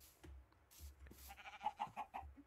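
A sheep in the Minecraft video game bleats in a short run of quick wavering calls, fairly close, after a few soft in-game thumps and footsteps, with no speech.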